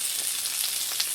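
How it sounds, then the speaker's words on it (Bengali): Dry red chillies frying in hot mustard oil, the start of a spicy crab curry, give off a steady, close sizzling hiss with no one talking. "সরষের তেল দিয়ে দিচ্ছি আর দিয়ে দেবো শুকনো লঙ্কা।"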